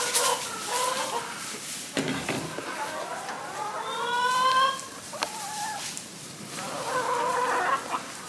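Chickens in a coop cluck and coo during extreme cold weather, with a rising rooster-like call in the middle, close and lively, while a person talks quietly underneath.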